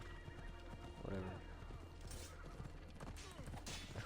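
A horse in Assassin's Creed Odyssey whinnies after being struck, a shrill neigh amid clip-clopping hooves and game combat noise, with people talking over it.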